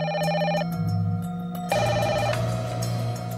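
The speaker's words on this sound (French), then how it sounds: "Gabriel reçoit un appel au milieu de la nuit." A telephone rings in the middle of the night, a bright electronic ringtone repeating in pulsing tones, loud and close with no voices.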